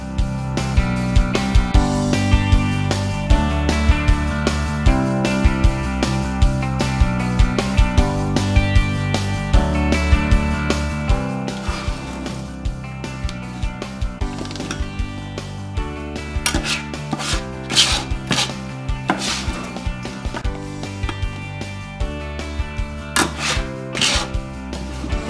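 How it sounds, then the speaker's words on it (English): A knife chops bell peppers on a cutting board for stuffed peppers, producing rapid, close, rhythmic knocks and scrapes that run steadily, then grow sparser with sharper isolated cuts. "and start cutting."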